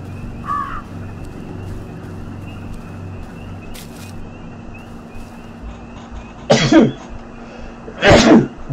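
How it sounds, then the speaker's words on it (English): A single sharp sneeze bursts out near the end, preceded by a shorter throat-clearing or cough-like burst, over a quiet hum of background game sound. "Did not mean to sneeze."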